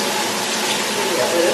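Shower water streams steadily while hair is rinsed during a wash day, a soft continuous hiss of spray close by.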